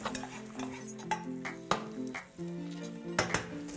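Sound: vegetables searing in a frying pan

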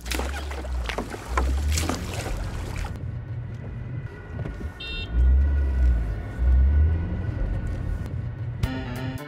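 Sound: rowing a boat across a big river, radio sound effect

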